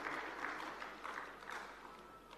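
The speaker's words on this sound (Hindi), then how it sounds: "इसलिए जोरदार तालियां बजा सकते हैं" Audience applause fills a welcome and inauguration session of the Transport & Travel Wing at Gyan Sarovar, Mt. Abu: a steady, fairly faint patter of many hands clapping with no pauses.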